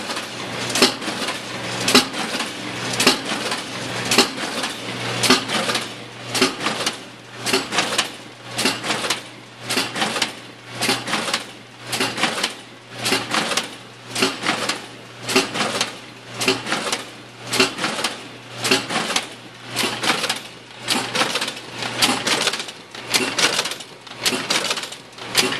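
A Bourg BSTd booklet maker runs on motor speed 4, producing a fast steady series of clacking, thumping cycles roughly once per second over a continuous low motor hum, close and loud with no speech.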